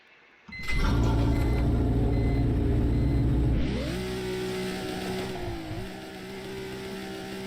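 A sports car engine in the Roblox Greenville video game. It starts up abruptly into a loud steady drone, then settles into a smoother rising tone as the car pulls away.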